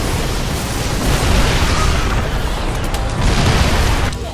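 Siege tanks locking into siege mode and shelling in a StarCraft II match, delivering heavy, continuous booming blasts that swell and fade in loud waves with no talking.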